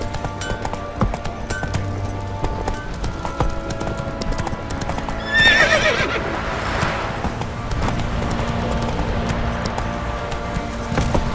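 A horse gallops in The Witcher 3 video game, with rapid, rhythmic clip-clop hoofbeats throughout and a short whinny partway through over faint game ambience.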